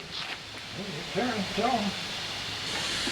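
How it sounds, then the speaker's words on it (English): An industrial air compressor runs with a steady, soft hiss throughout, while a person briefly talks over it. "Want to tell them about your fancy air compressor?"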